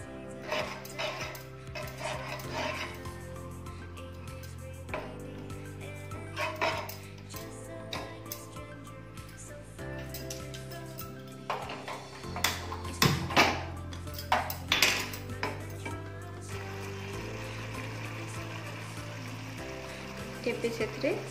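A spoon whisks two spoonfuls of yogurt in a bowl for an egg tikka masala, with repeated clinking and scraping strokes over steady kitchen background hum and occasional louder knocks, close and moderately loud.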